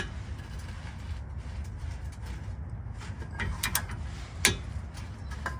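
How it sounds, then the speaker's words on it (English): A big ratchet slowly works a rusty bolt loose on a 2000–2006 Tahoe/Yukon front suspension, giving faint intermittent clicks and a few sharper ticks over low outdoor background noise. "I got the big ratchet and I'm just doing it little by little"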